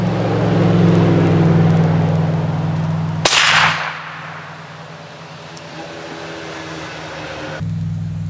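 A 6.5 Creedmoor rifle fires a single sharp, loud crack at a cooking pot partway through, over a steady low background hum, with the report quickly decaying and no voices.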